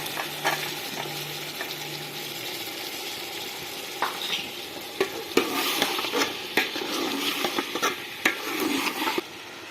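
Vegetables stir-fried for a mixed vegetable pulao with peas sizzle steadily in a pot, with scraping spoon strokes and irregular clatter growing busier partway through, close and fairly loud, with no talking.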